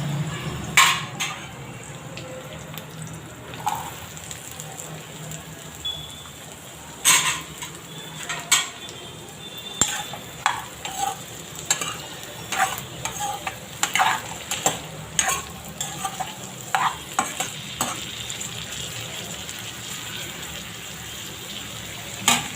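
Stirring and sizzling as soya chunks are added to browned onions frying in a pan, with repeated utensil scrapes and clinks on the pot throughout, close and steady, no talking.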